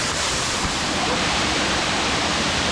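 Hidden waterfall at Zirad, a constant, full rush of falling water filling the whole moment, steady and close with no breaks.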